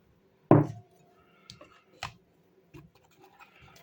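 A wire whisk mixing sifted flour into a soft bread batter of cream in a bowl, heard as a sharp scrape followed by a few lighter scratchy clicks and taps, close and sparse, with no talking.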